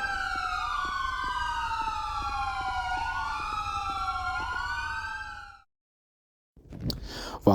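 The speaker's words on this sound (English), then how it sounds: "Ambulance down here." An ambulance siren wails in steady, rising and falling sweeps for about five seconds, clear and fairly near over a low road rumble, then cuts out, followed by brief noise.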